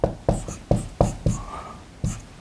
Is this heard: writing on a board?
yes